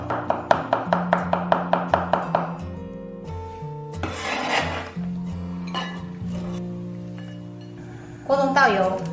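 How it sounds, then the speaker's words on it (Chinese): Half a radish being cut with a kitchen knife, first a quick even run of about a dozen crisp chops on a board, then slower clatter, rasping and scraping of pieces. "半个萝卜先切片，"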